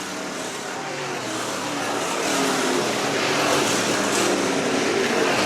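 Race cars roar around a racetrack during a feature race at Manistee, a loud, steady engine drone that builds slightly as the cars pass, with no talk over it.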